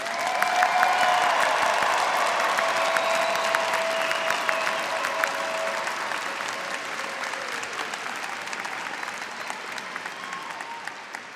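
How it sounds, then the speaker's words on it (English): Sustained audience applause at the University of Arkansas spring commencement for new doctoral graduates, a dense, steady wash of many clapping hands in a large hall that gradually thins toward the end. "Would the audience join me in applauding our newest doctoral graduates?"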